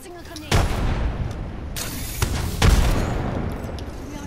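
Grenade blasts in Apex Legends, a sharp loud explosion followed by further booming bursts amid continuous gunfire and battle din, with a voice speaking over the action.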